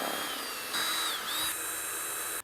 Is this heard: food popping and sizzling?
no